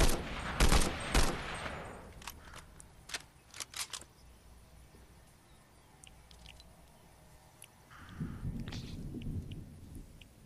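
Assault rifle fire in the Fortnite video game comes in a few quick, loud bursts at the start, followed by scattered fainter shots and soft in-game ambience with muffled movement.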